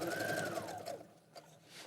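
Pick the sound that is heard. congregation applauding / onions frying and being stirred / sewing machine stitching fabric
sewing machine stitching fabric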